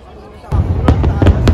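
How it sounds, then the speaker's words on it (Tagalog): National Day fireworks over Hong Kong burst in a loud run after a quiet start, several sharp booms with crackling tails over a rumbling crowd, while a voice talks. "ito ang kauna-unahang fireworks dito sa Hong Kong. It's a National Day fireworks"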